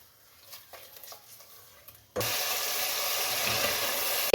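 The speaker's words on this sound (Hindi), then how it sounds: "अब इसको मसाले को इसके अंदर भून लें" Spices frying in a pan for aloo methi: a few faint clinks and scrapes, then a sudden loud, steady sizzle that runs to the end.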